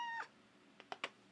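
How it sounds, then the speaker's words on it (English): A house cat gives a single harmonic meow close by, followed by a few soft clicks and taps in an otherwise quiet room. "Oh, and we have a cat."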